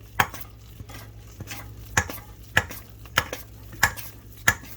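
Whole wheat biscuit dough is scraped and stirred in a bowl that turns as it goes, giving sharp, evenly spaced knocks of a utensil against the bowl with quieter scraping between them, close and clear with no talking.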